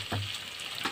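Potatoes frying in a pan with onions and spices, a close, steady sizzle with a couple of brief stirring scrapes, no talking.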